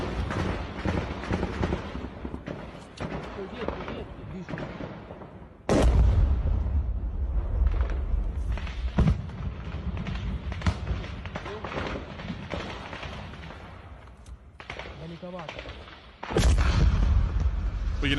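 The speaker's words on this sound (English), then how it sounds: "the explosion rocked incredibly close to the camera, knocking it down" Loud booming blasts punctuate a continuous rumble of gunfire in a Ukraine war firefight, with two heavy explosions very close to the camera hitting hard near the start and end, voices faintly beneath.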